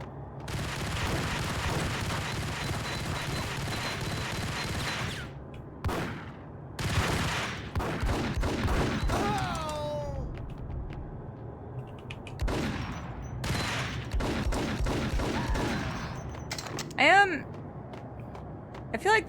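Gunfire and grenade blasts in the video game Max Payne: dense bursts of shots and booming explosions in clustered volleys, loud and close, with short gaps between them.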